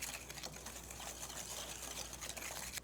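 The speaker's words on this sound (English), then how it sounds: "we're just whisking that butter, melted butter and sugar together" Melted butter and sugar being whisked together in a bowl for chocolate banana bread, a faint, continuous stirring swish heard close and alone.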